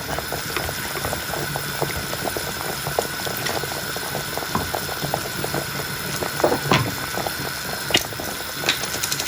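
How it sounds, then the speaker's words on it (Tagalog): Pork chop nilaga broth bubbling in a pot at a steady boil, a dense continuous burble with scattered pops and gurgles, close and fairly loud, with no talking. "kuluan na siya, tingnan natin"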